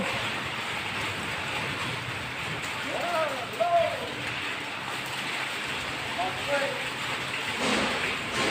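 Rain falls in a steady, even hiss at a work site, continuing unbroken while people talk over it.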